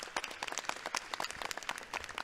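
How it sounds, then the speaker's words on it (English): An audience at a school district press conference applauds honored schools, a steady patter of many hands clapping close by without pause throughout. "Let's give our honorees a round of applause."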